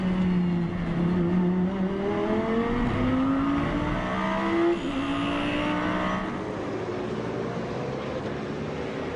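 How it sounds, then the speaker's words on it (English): An Audi race car from Team Phoenix laps the Spa 24 Hours circuit in 2011, its engine note rising and falling steadily for several seconds, loud and continuous with no voices. "in 12th is the surviving Audi from Team Phoenix, which has got at the moment Andrea Piccini"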